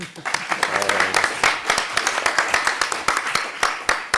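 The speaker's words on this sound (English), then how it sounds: "Let's give them one more round of clap," Applause for a panel on connectivity for refugees, a moderately loud round of clapping from a smallish audience in which individual claps can be picked out, with some voices underneath.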